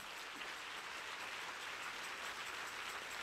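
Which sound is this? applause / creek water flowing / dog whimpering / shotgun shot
applause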